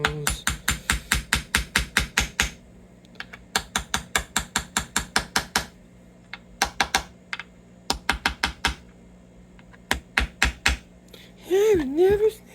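Sharp metallic tapping of a brass punch on a Gibson Les Paul guitar, struck in quick rhythmic bursts of many close, even taps with short pauses between runs, loud and near with no talk.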